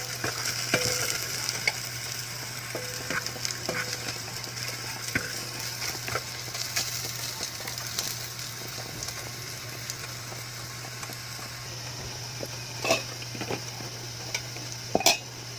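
Onion and garlic frying in oil in a pan, a soft continuous sizzle under a low steady hum, with repeated clinks and scrapes of a utensil against the pan, close and moderately quiet, no talking.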